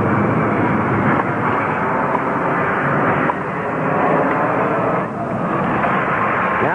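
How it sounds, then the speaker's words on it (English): Airplanes fly low over an outdoor tennis court at the 1972 US Open final, a loud, steady broadband engine roar that fills the whole stretch with slight swells in intensity. "the airplanes are coming so close to disturbing him, he can hardly hear himself think"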